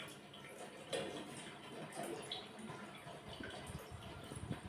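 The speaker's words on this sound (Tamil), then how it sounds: "தண்ணி கொதிச்சுட்டு இருக்குது." Water boils in a cooking pot with steady soft bubbling and small pops, close and fairly quiet, no other sounds over it.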